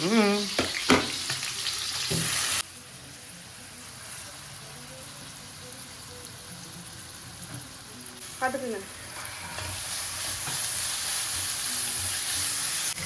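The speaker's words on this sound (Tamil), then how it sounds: "புதினா இப்போ சேர்த்துருவேன் இஞ்சி பூண்டு சேர்த்து வதக்கிட்டு" Onion, mint, ginger and garlic sauté in a pan, giving a steady close sizzle and hiss that drops quieter partway through, then rises again with stirring. A brief voice is heard near the start.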